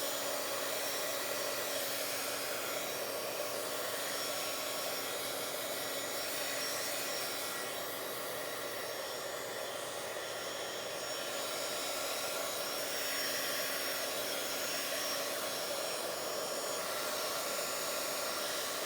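A heat tool blows steadily to dry paste on a Bible journal page, producing a constant, even, breathy whir for the whole stretch with no talking.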